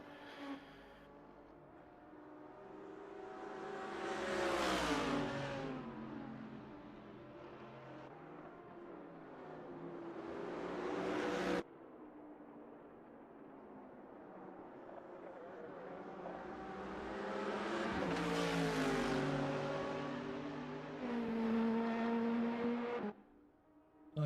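Race cars at Silverstone finishing a multiclass race, engines rising to loud passes around 5 and 19 seconds, then fading, with a steady mechanical drone in between and no talk.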